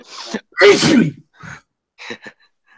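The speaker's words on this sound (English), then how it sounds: "Sorry, I just sneezed." A single sharp sneeze bursts out near the mic after a short intake of breath, followed by a few quiet breathy sounds and faint murmurs.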